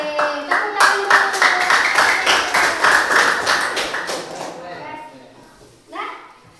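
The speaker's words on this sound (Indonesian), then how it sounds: "tepuk tangan dulu" Classroom of students clapping hands together, a burst of fairly loud clapping with rhythmic claps that fades over several seconds, with voices calling out over it and a brief voice near the end.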